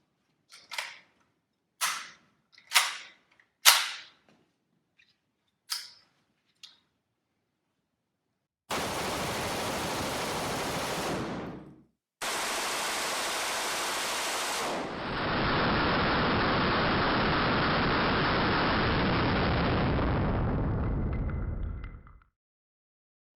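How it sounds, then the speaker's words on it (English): A PDW fired on full auto, emptying a 30-round magazine. A few sharp single reports come first, then long sustained roaring bursts that are loud and near, with no talk. "Although you would rarely dump a 30-round magazine on a full auto, we did it on this PDW just to illustrate almost zero muzzle climb"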